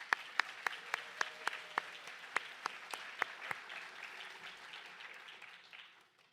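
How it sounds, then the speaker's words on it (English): An audience gives graduate students at a Three Minute Thesis event a round of applause, opening with sharp distinct claps that blend into a fainter, fading wash of clapping. "If we could just go ahead and give them another round of applause"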